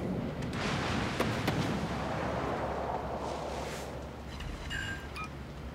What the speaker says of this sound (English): And we're going to continue to shoot at the King George.